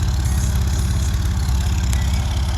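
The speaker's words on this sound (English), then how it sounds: "so you can enjoy the song of the air-cooled flat six" An air-cooled flat-six car engine idles after a cold start, giving a steady, even low-pitched thrum with a fast, regular pulse that stays loud and close throughout.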